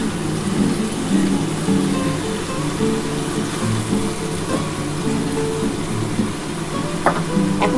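Lote fish coated in salt and turmeric sizzles steadily in a hot pan, a dense continuous crackle with a few sharper pops near the end, close and fairly loud, with no talking.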